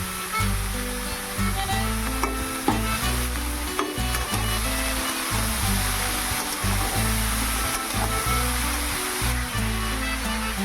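Cabbage and potato fry in oil with black cumin and dried chilli, a loud continuous sizzle with stirring clatter over a steady low throbbing hum.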